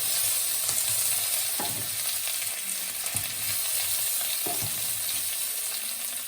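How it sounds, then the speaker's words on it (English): Food frying in a pan gives off a continuous close sizzle, broken by a few soft scrapes and knocks of stirring at irregular intervals. "And you just keep stirring it for a bit longer."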